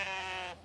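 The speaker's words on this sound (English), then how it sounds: "I am here in the Wellington city of New Zealand, joined by these beautiful sheep" A sheep bleats once on a farm near Wellington, New Zealand, a close, wavering, nasal call lasting about half a second before cutting off, with no voices.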